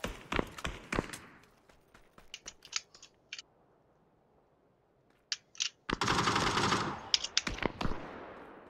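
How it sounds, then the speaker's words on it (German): Gunfire from a hill in the PUBG video game, sharp rapid shots in short bursts and single cracks, then a dense loud volley toward the end, with pauses of near silence between. "Oh, ich werde vom Hügel beschossen, vom Hügel."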